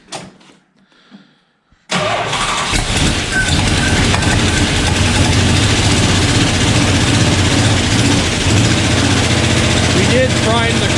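A 1969 Dodge Dart V8 with a freshly primed carburetor catches after a brief crank and settles into a loud, steady, rumbling idle that fills the rest of the clip, close up.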